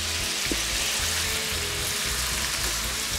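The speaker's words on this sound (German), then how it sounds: "Und das lassen wir jetzt erstmal ordentlich durchbrutzeln." Asparagus sizzles and fries in a pan over an Ecozoom rocket stove burning pine cones, a steady dense crackling hiss that stays loud and continuous throughout.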